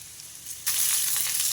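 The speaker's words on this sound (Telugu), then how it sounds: "ఈ మసాలా అంతా కూడా బాగా వేగాలి" Onions with cumin and coriander seeds frying in oil for a mushroom masala curry, a soft hiss that suddenly swells into a loud, steady sizzle after a brief quiet start.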